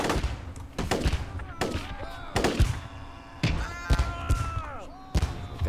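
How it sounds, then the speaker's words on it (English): Mortars fire in Theatre of War 3: Korea as a series of heavy thumps and bangs at irregular intervals, mixed with whistling tones and game noise, with a voice talking over parts of it. "our mortars are definitely firing in this direction"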